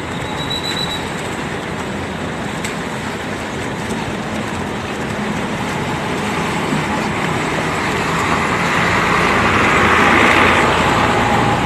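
A Laju Prima intercity bus, number 68, pulls into a bus terminal's arrival lane with a loud, steady engine and road rumble that swells toward the end, and no talking.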